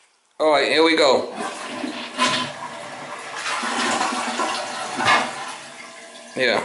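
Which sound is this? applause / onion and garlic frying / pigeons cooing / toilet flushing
toilet flushing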